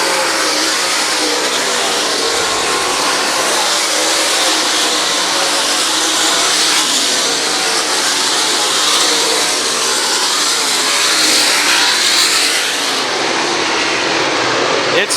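USMTS modified race cars roaring around the LA Raceway dirt track, a loud sustained engine drone from several cars passing throughout with no break.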